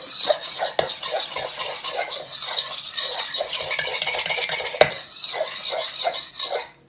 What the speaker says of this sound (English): we're going to give it a good mix around